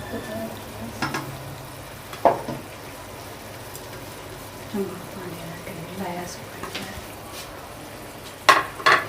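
Masala and tomatoes cook in a pan for haleem with a soft, steady sizzle, broken by a few brief stirring clinks and scrapes near the start and end.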